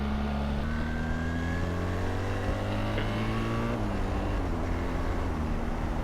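BMW R 1300 GS Adventure motorcycle engine pulling steadily through the revs, a loud, close, continuous drone with rising harmonic tones as it accelerates and shifts, no talking over it.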